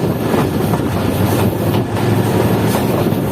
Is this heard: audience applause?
no